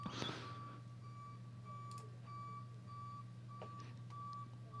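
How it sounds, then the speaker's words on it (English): Regular electronic reversing beeps from a truck backing up outside sound from a distance, steady and evenly spaced, over a low rumbling background hum. "There's also a truck backing up outside."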